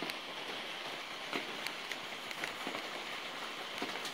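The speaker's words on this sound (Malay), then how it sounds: "Masih hujan lagi," Night rain falling on banana leaves and around a rest house, a steady soft patter with occasional louder drips, fairly faint and even.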